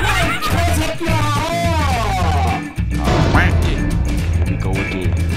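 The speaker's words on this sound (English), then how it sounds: "Quack." Loud cartoonish duck quacks ring out from the Blockman Go horror game, layered over a busy, dense game soundtrack with crashing hits and a brief dip partway through.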